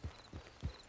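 Horse hooves clip-clop in Red Dead Redemption 2, four soft, evenly spaced hoofbeats of a horse walking, faint and low with no speech.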